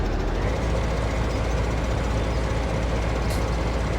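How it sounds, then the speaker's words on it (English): Flat, steady drone of a Euro semi truck engine in Farming Simulator 17, a dense unbroken rumble at constant level with no speech over it. "The engine note seems flat. Listen to it."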